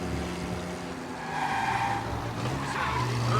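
A car's tires skid and squeal while driving in Mafia: Definitive Edition, a sustained rising screech over the hum of the engine, moderately loud.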